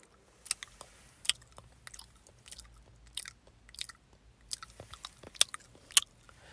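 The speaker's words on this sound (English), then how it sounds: "Stop chewing with your mouth open." Someone chews food loudly with an open mouth, giving close, wet biting and crunching bursts in an irregular rhythm, alone without talk.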